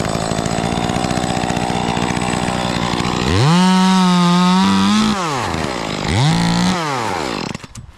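A chainsaw cutting up limbs of a large cedar near a house: loud and close, with a steady idle rattle that rises into two strong revving cuts before the motor drops off.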